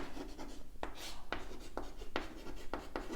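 Chalk or marker strokes on a board during a physics lesson on semiconductors, a quiet series of short scratchy taps and rubs in an irregular rhythm.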